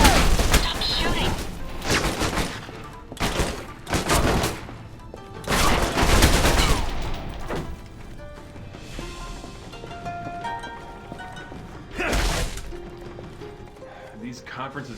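Gunfire in the Alpha Protocol PC game during a penthouse firefight: loud, dense bursts of rapid shots in several waves, then quieter stretches and a final burst, with talk heard alongside.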